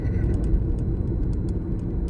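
A car engine rumbles low and steady under 2,000 RPM during a midnight drive, heard from inside the cabin as continuous road noise with faint clicking ticks above it.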